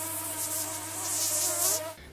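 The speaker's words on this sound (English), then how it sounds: "It's the mosquito." A mosquito in New Jersey whines close and steady with a high, wavering buzz that holds for about two seconds, then cuts off abruptly.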